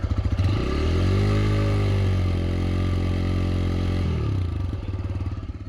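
A 2025 TVS Raider 125 motorcycle engine runs loud and close, pulsing at idle, then revving up into a sustained high-pitched drone for a few seconds before dropping back to a throbbing idle.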